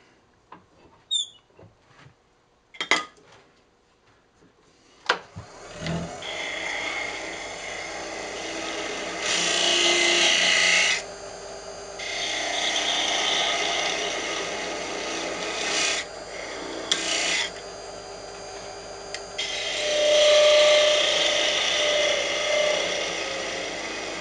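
Sandpaper rubbing against a walnut lidded box spinning on a wood lathe, a steady close rasping that swells and eases in long passes after a few sharp knocks at the start.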